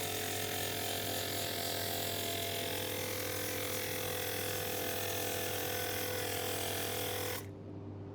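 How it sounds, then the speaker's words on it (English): A foam sprayer for car detailing sprays as a loud, steady mechanical hiss with a constant humming buzz, running unbroken for several seconds before cutting off abruptly near the end. "we are getting a little bit of a wider spray pattern once it's all primed out"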